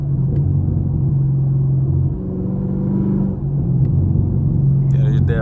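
Chevrolet Camaro SS V8 rumbles in a low, steady burble while cruising through city streets, heard loud from inside the car, easing briefly before picking back up, with a voice at the very end.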